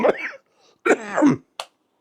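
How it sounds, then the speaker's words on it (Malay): A couple of short, harsh coughs close by, separated by a brief pause, ending with a quick sharp catch of breath. "saya batuk sikit"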